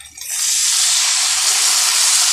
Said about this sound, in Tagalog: Lagyan na natin yung tubig.